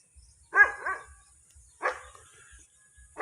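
A dog barks at a rural farmstead in the Philippine countryside, near a hut among coconut trees: a quick pair of loud, close barks, then a single bark, and another bark starting at the very end, with quiet gaps between.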